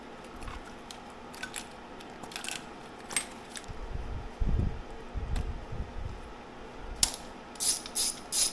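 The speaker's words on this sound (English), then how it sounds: "Now I'm gonna go ahead and remove the fuel rail and get the other one swapped in." A hand wrench ratchets in short clicking bursts while removing a car engine's fuel rail, close and fairly quiet, mixed with metallic clinks and knocks between pauses.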